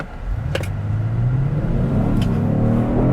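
Kia Stinger GT2 V6 engine accelerating from inside the car, a close, loud rising growl whose pitch climbs steadily, with a couple of short clicks near the start and again later.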